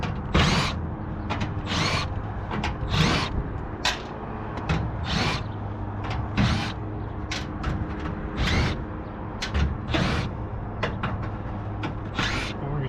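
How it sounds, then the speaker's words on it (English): A Carrier rooftop unit with a faulty inducer motor, giving a continuous mechanical drone broken by repeated loud rattling, ratchet-like clanks at irregular intervals, close and without talk. "I think that inducer motor is causing the problem."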